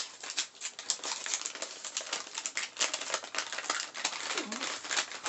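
A small paper snack bag of meat-flavored chips with a plastic liner inside is torn open, rapid crinkling, rustling and ripping at close range, with brief talk faintly underneath.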